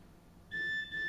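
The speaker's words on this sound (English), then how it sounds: "there's a message on my phone" A phone sounds a short, clear notification beep in a home kitchen during stir-fry cooking, a faint steady tone with no talking over it.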